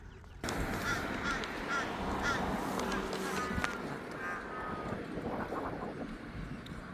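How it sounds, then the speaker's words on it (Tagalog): Faint crow caws sound at a distance over steady outdoor background noise in Australia, with no speech. "Crow."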